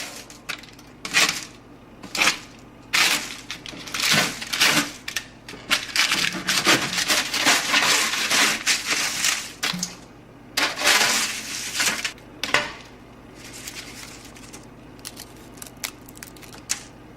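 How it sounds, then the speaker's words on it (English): Crispy kale chips made with garlic scapes being scraped and flipped in a pan, giving irregular bursts of dry crunching and rattling scrapes, close and fairly loud, with short pauses between. "I'm thinking I'm gonna try and flip them a little bit. It's pretty crispy."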